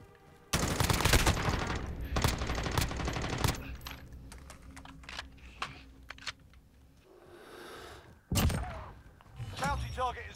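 Bursts of automatic gunfire in Call of Duty: Warzone, loud rapid volleys at the start that thin out to scattered shots and thuds, with voices talking over the fighting.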